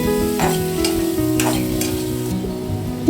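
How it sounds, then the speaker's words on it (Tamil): Cubes of paneer, about 200 grams, sauté in melted butter with a continuous sizzle and light stirring scrapes, under steady tonal background sounds and a brief clatter at the end. "இதை நல்லா பட்டர்லேயே வதக்கி கொடுத்துக்கலாம்"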